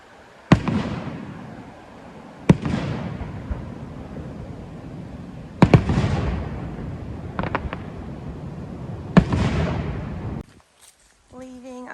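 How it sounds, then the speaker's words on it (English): Fireworks bursting at night outdoors in New England near a parked camper van, four sharp loud bangs each trailing into a long crackling rumble, with a fainter double pop between them and a quieter stretch at the end. "But do you hear that? We think it's fireworks."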